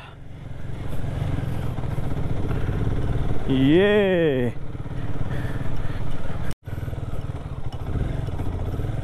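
A motorcycle engine drones steadily while crossing a stream on a mountain road trip route from Manali to Chandra Tal in Spiti Valley, revving to a rising, wavering whine midway, with a voice speaking briefly.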